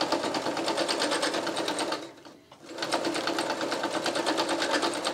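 Sewing machine stitching a clown bodysuit on a flimsy plastic table hums at a fast, steady rhythmic whir, loud and close, pausing briefly midway before resuming at full speed.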